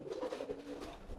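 A domestic pigeon coos close by, a brief run of low throaty burbling notes, with no voices over it.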